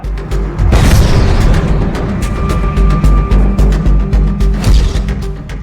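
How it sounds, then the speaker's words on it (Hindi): A loud, heavy bomb explosion at a university hostel in Patna bursts out near the start, followed by a series of rhythmic pounding thuds. "मेड इन पीयू बम से एक और धमाका"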